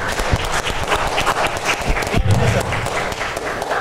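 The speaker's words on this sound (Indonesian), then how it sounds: "Tepuk tangan dulu buat Love Project." Applause breaks out for Love Project, a steady burst of clapping that carries on for a few seconds alongside a voice.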